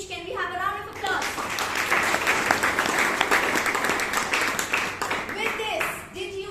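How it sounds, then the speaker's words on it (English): A roomful of listeners at a Toastmasters club meeting in Bangalore breaks into sustained applause after a speech, with dense clapping for several seconds while a voice speaks at the start and end. "Can we have a round of applause?"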